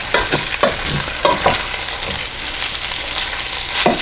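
Beef sizzles and fries in oil in a pan, a loud, steady crackling hiss broken by a few scraping stirs, with no talking.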